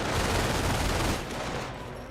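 Heavy gunfire from a Company of Heroes battle, a dense, continuous fusillade of overlapping shots and machine-gun bursts that stays loud, then eases slightly toward the end.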